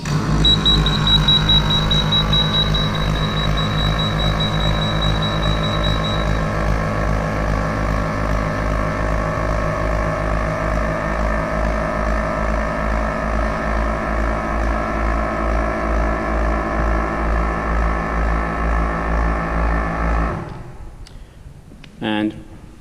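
Clad Boy CB4 vacuum panel lifter with suction engaged on a long horizontal wall panel, a loud steady mechanical hum with a constant high tone early on, running continuously before cutting off near the end, with a voice over it.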